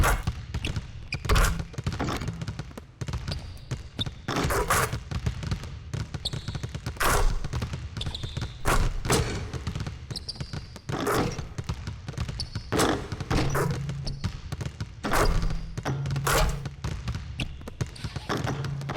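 A basketball dribbled in the NBA 2K16 video game, repeated sharp thumping bounces in an uneven rhythm over a low game backdrop, with occasional squeaks and soft crowd noise.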